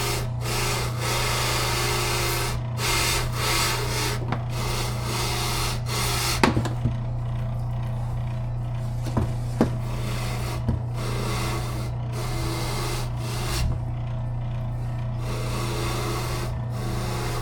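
A fleshing wheel works a bird skin for taxidermy, giving a steady close motor hum under a continuous rasping, rubbing scrape, broken by a few faint clicks.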